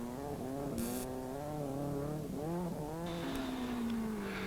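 A 1983 rally car driven hard on a West Cork Rally stage, the engine rising and falling through gear changes in a steady continuous roar, heard from a moderate distance and fairly faint, with no talking.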